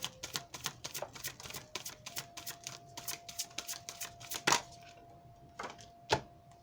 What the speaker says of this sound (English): I'm going to get a more comfortable shuffle